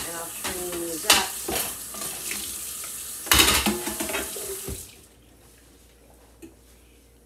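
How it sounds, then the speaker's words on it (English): A kitchen strainer rinsed under a running tap, with the steady rush of water broken by metallic clanks and knocks from the strainer before the flow stops and the room goes quiet. "I have the strainer right here. And I'll just rinse it out."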